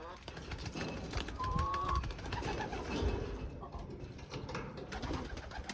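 Pigeons cooing in a loft as they bathe and are fed, soft repeated coos under steady background noise and a voice.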